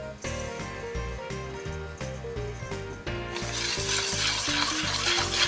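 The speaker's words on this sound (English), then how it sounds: "we are going to use a whisk to combine our icing sugar and" A whisk stirs icing sugar and almond meal in a mixing bowl, a soft continuous rubbing swish under steady background music.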